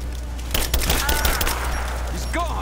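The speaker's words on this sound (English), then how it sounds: "Looks like they firing in the air." Rapid bursts of gunfire in the video game Rise of the Tomb Raider, a clustered volley of loud sharp shots over a low game hum, fading into quieter ambient sound and faint tonal effects afterward.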